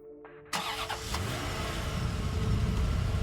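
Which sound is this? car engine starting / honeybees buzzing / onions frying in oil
car engine starting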